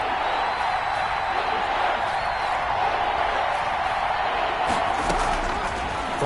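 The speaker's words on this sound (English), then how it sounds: "The crowd getting into it as we come up on a big third down" A football stadium crowd builds to a steady, loud roar ahead of a big third down, a dense wash of voices with a few faint thumps and no break.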